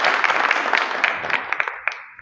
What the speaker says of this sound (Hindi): आप एक बार इनके लिए तालियां जरूर बजाएं